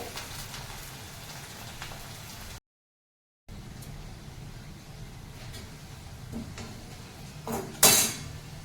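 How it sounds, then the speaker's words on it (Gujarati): Valor beans frying in oil for undhiyu give a steady, rain-like hiss that briefly cuts out, then resumes and ends with a louder crackling spurt. "વાલોર ફ્રાય થાય છે ત્યાં સુધીમાં આપણે વઘાર મૂકી દઈએ."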